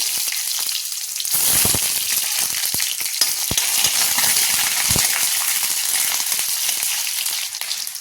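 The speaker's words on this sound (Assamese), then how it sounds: "এফালে এয়া তেল গৰম হৈ গ'ল আৰু ইয়াতে মই অকণমান পাঁচফোৰণ দি দিছোঁ আৰু দুখিলা তেল আৰু লগতে এফাল পিঁয়াজ দি দিছোঁ" Onion and panch phoron fry in hot oil in a pan while cooking an Assamese lunch, a loud steady sizzle with scattered clinks and scrapes of stirring, close and without talk.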